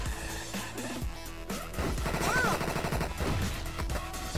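A shotgun fires in a 2D video game as a burst of rapid blasts and crashes over busy game music, with a voice speaking over part of it.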